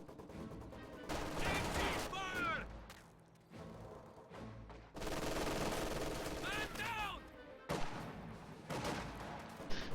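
Gunfire in the World War II strategy game Company of Heroes, where an MG42 supports Grenadiers against Soviet conscripts: repeated bursts of rapid shots amid battle noise, with a voice talking over parts of it.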